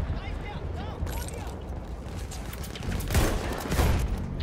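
Gunfire in Battlefield 1, a World War I shooter, in dense distant volleys mixed with explosions and battle din, with voices shouting over the noise.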